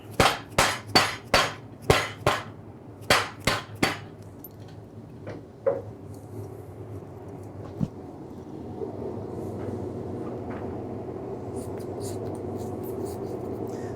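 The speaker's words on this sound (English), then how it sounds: "Mallet action." A small hammer or mallet strikes a workpiece in a workshop: a fast run of about a dozen sharp, close taps, then a few scattered knocks over a steady background hum.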